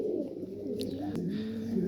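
Racing pigeons in moulting season coo softly and repeatedly at close range, a low throaty burbling over quiet background noise.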